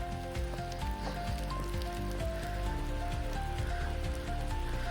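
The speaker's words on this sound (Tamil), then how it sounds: "சரியாக மழை பெய்யுது." Rain falling in Cairn Hill reserve forest in Ooty, a steady patter of drops on leaves and surfaces under the tree canopy, continuous and fairly soft, with scattered drips and faint tonal sounds mixed in.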